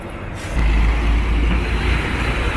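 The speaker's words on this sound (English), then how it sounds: "Here comes the other fire truck." A fire truck passes on a street during a morning walk in Argassi, its loud, heavy engine rumble swelling suddenly and holding close over a broad roar of traffic noise.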